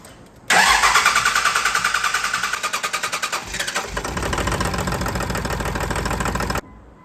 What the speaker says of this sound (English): hop in your truck and turn the truck over for a little bit